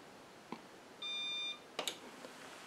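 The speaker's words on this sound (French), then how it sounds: "on appuie pendant quelques secondes, on entend le petit bip" An Eaton 3S 700 UPS emits a single short electronic beep at moderate loudness when its power button is held, surrounded by faint clicks and handling noise in a quiet room.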